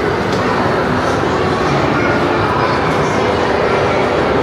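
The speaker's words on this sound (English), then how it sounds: "The train just went by." A steady, loud rumbling of a miniature Toys R Us ride train rolling past inside the American Dream Mall, continuous and droning with no pauses, busy background noise throughout.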